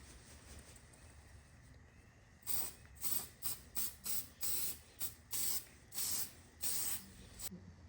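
Coating sprayed onto a restored car headlight comes in about ten short, evenly spaced hissing bursts, close and clear over a faint background hum, with no speech.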